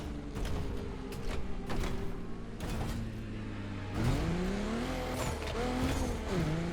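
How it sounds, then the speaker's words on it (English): Car engine from The Crew Motorfest, a racing video game, holding a steady loud drone with pitch swells and rising revs near the end, plus some tire squeal, with no talking. "Can we actually drive while doing this?"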